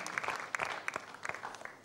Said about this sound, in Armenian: ծափարում ենք Տիրուհին, շնորհավորում ենք